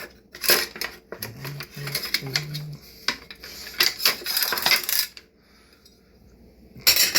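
Metal kitchen tongs clink and clatter against a pan while shrimp are turned for teriyaki, in quick irregular bursts of close, sharp taps, with a brief low hum in between.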